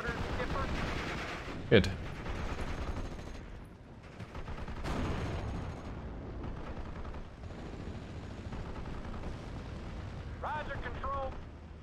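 Gunfire and artillery in the WWII strategy game Steel Division: Normandy 44 roll as rumbling bursts, with one sharp crack and machine-gun fire, heard under brief radio-style voice lines.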